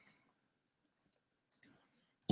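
Computer mouse clicks on a create button, a few faint, crisp ticks spread across a quiet moment, close and isolated without talk.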